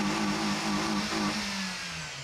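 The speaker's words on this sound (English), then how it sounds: "Well, she's doing race car sounds for sure." A car with 5,787 miles on it revs hard and close like a race car, a steady, buzzing engine note that holds and then eases slightly lower.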